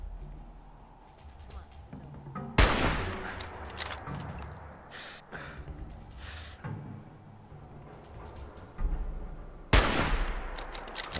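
Gunfire bursts in Fallout 4 survival mode, with sharp loud shots and rapid volleys cracking out at intervals over busy game noise and a talking voice.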